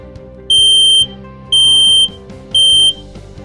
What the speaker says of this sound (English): change the battery in your smoke alarm